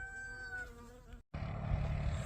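Insects buzzing at beehives on a homestead after the growing season, a steady droning hum with wavering tones, cut by a brief gap and then resuming thicker and louder.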